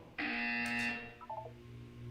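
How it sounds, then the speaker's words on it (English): An electronic buzzer sounds in the video game Portal 2, a single harsh tone lasting about a second followed by a short beeping flourish, moderately loud with no talk. "You will hear a buzzer."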